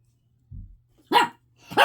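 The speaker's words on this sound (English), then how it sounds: "Sorry, my dog's in here with me, as you can hear him." A pet dog barks indoors during a crochet lesson: a low muffled grunt, then two sharp, close barks spaced about half a second apart, with no talking.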